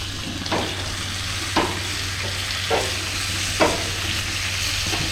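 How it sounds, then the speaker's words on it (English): Marron, a freshwater crayfish, searing in a hot pan at a bush camp. A steady close sizzle and frying hiss runs throughout, with several brief scraping stir or flip strokes spaced about a second apart and no talk. "Just a quick sear on the other side."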